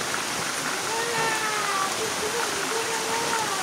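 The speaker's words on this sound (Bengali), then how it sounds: "বৃষ্টি শুরু হয়ে গেল" Heavy rain pours steadily outdoors as a broad, even hiss that holds at the same level throughout, with faint tonal sounds drifting underneath.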